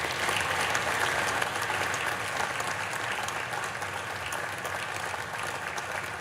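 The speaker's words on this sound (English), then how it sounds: "Imagine cheering after this process." Sustained applause and cheering fill the Senate chamber, a dense, steady wash of clapping from a large crowd that holds at even loudness throughout, with no speech over it.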